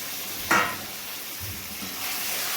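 Marinated mutton sizzles in a pan of fried onions, a soft steady frying hiss after a brief clatter as the meat goes in, fairly quiet and with no talk.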